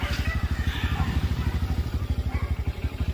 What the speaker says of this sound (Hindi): सबने अपनी अपनी बाइक तैयार कर ली है